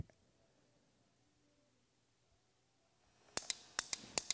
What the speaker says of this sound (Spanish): escucharon al solenoide hacer clic